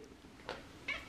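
A domestic cat meows twice indoors, two short, faint calls spaced about half a second apart over a quiet background.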